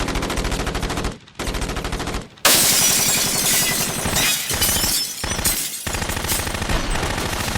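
Bursts of rapid gunfire in a Captain America motion comic, loud and dense with sharp cracks and some shattering, broken by brief pauses into separate volleys, with no talk.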